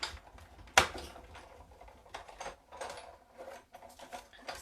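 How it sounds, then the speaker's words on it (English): Paper is cranked through a Big Shot die-cutting machine with a stitched-edge die, giving a sharp initial clack followed by uneven rolling, grinding and creaking of the plates, close and fairly quiet. "So I'm just going to run this through my Big Shot."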